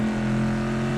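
Front-engined 1960s GTC race car with a V8, driven in Assetto Corsa, holding a loud steady drone at constant revs, close and alone.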